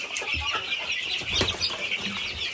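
Chicks cluck and cheep continuously inside a small-farm coop shared with guinea fowl and quail, a busy overlapping chorus of close, fairly loud calls with a brief flutter of wings.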